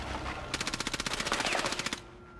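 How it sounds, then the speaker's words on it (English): An MP7 submachine gun fires a fast, evenly spaced burst of about fifteen shots in Rainbow Six Siege, crisp and close, lasting around a second and a half before stopping, with a brief quiet lead-in. "I dumped half my mag into him with the MP7"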